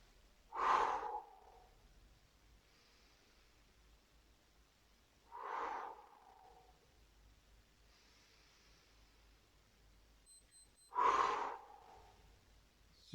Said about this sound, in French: On inspire par le nez et on souffle.